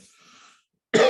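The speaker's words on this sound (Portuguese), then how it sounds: "desculpa, gente, a tosse está brava" A single loud, harsh cough bursts out near the end after a faint, hissy pause, close and alone with no talking.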